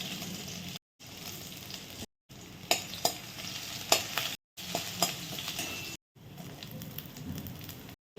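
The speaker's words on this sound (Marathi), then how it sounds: "कांदा टाकून छान परतून घ्यायचा" Green chilies, garlic, ginger and onion sauté in a spoonful of oil for paneer chili, a close, crackling sizzle with sharp spoon clinks and scrapes, broken by several brief silent cuts.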